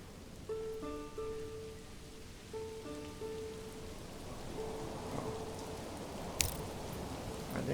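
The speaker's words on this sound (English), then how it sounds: "You can see here we're getting some rain." Steady rain hissing down in the medieval village-building game Manor Lords, a soft continuous wash under faint tonal game music, ending with a brief sharp crack.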